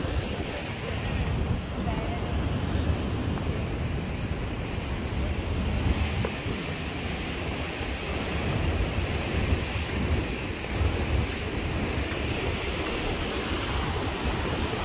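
Rough sea surf and strong wind on the coast at Heraklion, Greece, a steady loud broadband roar of crashing waves and gusting wind buffeting the microphone throughout.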